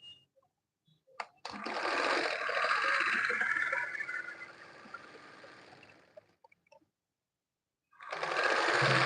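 A sewing machine runs a second line of stitching across a dress, a steady whirring burst of about five seconds that stops, then starts up again near the end, with no talk.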